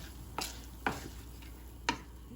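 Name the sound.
stirring instant rice in a pot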